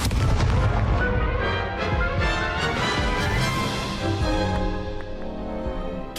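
Incendio fire spell cast in the Hogwarts Legacy video game, a burst of booming, crackling fire impact that opens loud and rumbles on with sharp bursts, fading slightly toward the end.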